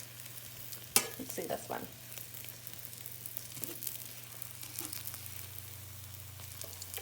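Stuffed French toast sizzles quietly in a hot frying pan, a soft steady crackle with a low hum beneath. A few utensil scrapes are heard, and someone speaks briefly.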